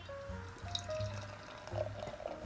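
KCBC Night Eater black IPA, dark as coffee, pours into a traditional tasting glass with a soft, continuous liquid gurgle and splash at close range, steady for a couple of seconds with no talking.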